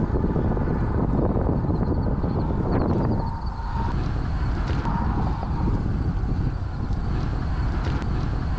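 Strong headwind buffeting the microphone while cycling across Kansas, a loud steady roar of wind noise throughout, dipping briefly near the middle.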